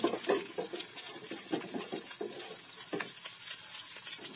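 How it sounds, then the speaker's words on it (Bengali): Chopped onion and garlic hit hot mustard oil in a frying pan, giving a loud, continuous crackling sizzle with scattered pops and spatters throughout. "তেলটা গরম হয়ে এসেছে, আমি এখন এখানে পেঁয়াজ রসুন কুচি দিয়ে দেব।"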